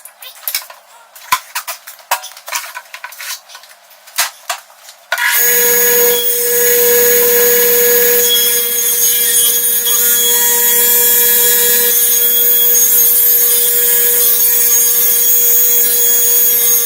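A power saw cuts wooden trim pieces during a pig pen build, a steady loud whining buzz that holds for about eleven seconds after scattered taps and clatter of handling.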